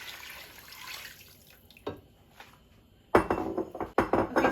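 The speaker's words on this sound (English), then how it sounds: "now we're going to add the stock" Stock is poured into a pot for an eggplant meat stew, quiet at first with a few knocks, then a loud gushing splash that comes in two bursts.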